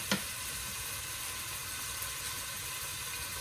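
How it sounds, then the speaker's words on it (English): Bacon strips begin to sizzle in a pan, a steady, fairly quiet crackling hiss that runs unbroken with a brief tap near the start and no talking. "while our bacon is starting to cook up"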